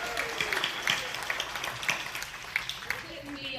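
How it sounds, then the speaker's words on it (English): Scattered applause and a few claps from a bluegrass show audience greet the lead singer of an all-women band, moderate and somewhat sparse over a room murmur. "y'all give her a big round of applause"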